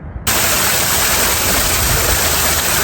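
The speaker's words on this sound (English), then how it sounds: "Swimming pool with the waterfall behind us." Waterfall pouring behind a swimming pool at Monte Vista in Mesa, Arizona, a loud, steady broadband rush that cuts in abruptly and holds constant, close and unbroken.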